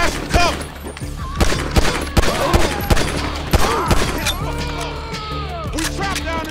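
Gunfight in GTA V heard in first person: rapid bursts of gunfire and sharp single shots crack repeatedly at close range, overlapping with shouting voices and in-game chatter throughout.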